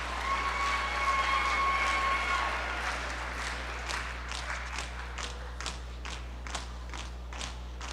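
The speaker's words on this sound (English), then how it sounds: "Let's give them a big round of applause for their incredible accomplishments" An audience at a school Veteran's Day assembly applauds a performing group, dense clapping that thins into scattered, sparse claps over a constant low hum.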